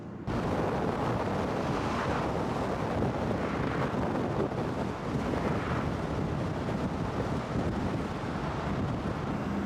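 Vehicle driving through the dry desert of northern Chile, a constant buffeting roar of wind noise over rumbling road sound, loud and broad, steady from start to finish with no voices.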